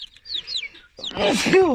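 Chickens let out on a morning release cluck and squawk close by in short, bright calls that grow busier and louder toward the end.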